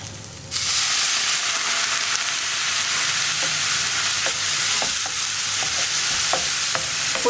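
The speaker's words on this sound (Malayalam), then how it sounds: "പൊടികൾ കരിഞ്ഞു പോകാതിരിക്കാനും നന്നായിട്ട് കുക്കായി കിട്ടാനാണ് നമ്മൾ ഇതുപോലെ ചൂടുവെള്ളം ചേർത്ത് കൊടുക്കുന്നത്" Hot water poured onto spice powders sizzling in a pan for potato masala, a loud steady hiss of frying that erupts suddenly and holds, with a few faint clinks of stirring, no talk.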